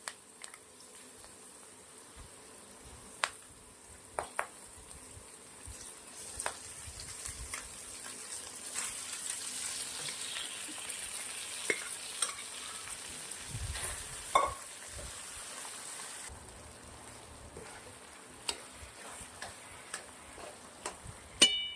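Khichdi goes into a pan over a low flame on a tempering of browned garlic, peanuts, chilli and curry leaves, giving a quiet, steady sizzle with scattered ticking clicks from stirring.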